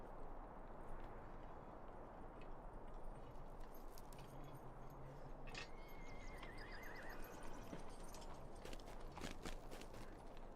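A horse in the Lord of the Rings Online fantasy game neighs, and its hooves clop along. The sounds are faint and distant over a steady ambient background.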